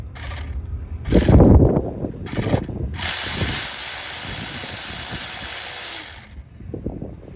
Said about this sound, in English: So I'm going to go ahead and take off the 2/8 bolt on that thermostat. I'm using my power gun.